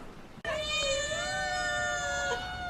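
One of several cats squabbling indoors at home lets out a single long, wavering yowl that starts suddenly and holds for about two seconds, loud and close with no talking over it.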